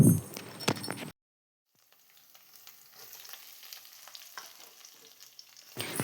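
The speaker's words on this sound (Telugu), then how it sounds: "సో ఇవన్నీ వేసిన తర్వాత మనం కాసేపు వేయించుకుందాం." Curry leaves, crushed garlic and coriander fry in a pan for a fish curry, a soft steady sizzle after a brief silence, with louder clattering bursts at the start and end.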